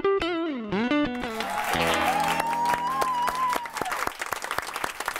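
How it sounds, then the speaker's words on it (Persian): Studio audience applauding a singer as a television talk show guest, sustained dense clapping with music playing underneath, loud and steady. "یک بار دیگه تشویقش کنید"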